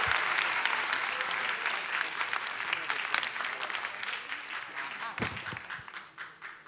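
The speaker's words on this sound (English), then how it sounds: "One person giving me a powerful round of applause." An event audience applauds at the opening of the Hamptons Institute talk series, dense clapping that starts full and slowly thins toward the end.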